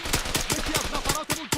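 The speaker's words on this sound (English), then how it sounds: "we got a lot of gunfire going on over here." Rapid gunfire crackles in the ARMA 3 video game, a dense string of sharp shots in quick bursts, loud and close, continuing nearly without pause.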